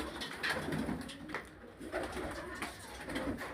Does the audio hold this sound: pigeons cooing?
yes